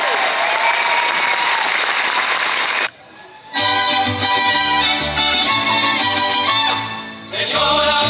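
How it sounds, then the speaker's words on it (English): Loud, dense crowd applause from an audience at the EPCOT 40th anniversary celebration fills the first three seconds, then stops abruptly as music takes over, with a brief swell of clapping near the end. "How about a round of applause, everybody, for Israel Molina and our director, Esteban"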